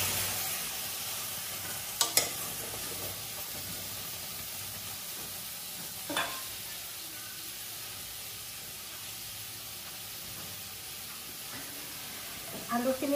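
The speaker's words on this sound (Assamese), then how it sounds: "এয়া কেৰাহীখন গৰম হোৱাত মই ইয়াত আলুখিনি দি দিম" Potatoes hit a hot wok with no oil for an aloo sabji, giving a faint, steady sizzling hiss broken by a few sharp scraping clicks of stirring near the start, middle and end.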